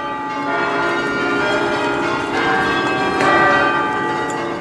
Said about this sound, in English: In churches around the country, the bells rang out in celebration.